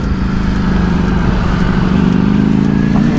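Motorcycles, a Ducati V4 and a Triumph Street Triple, riding near an airport toll in evening traffic, giving a loud, close, steady engine drone with a rising whine as they accelerate.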